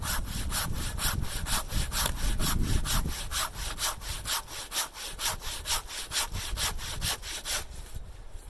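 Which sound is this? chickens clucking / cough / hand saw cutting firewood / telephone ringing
hand saw cutting firewood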